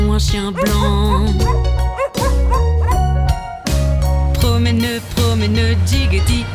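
Dog barks and yips ring out within a lively French-language cartoon children's song about buying a white dog at the market, sounding repeatedly over bright music and sung vocals.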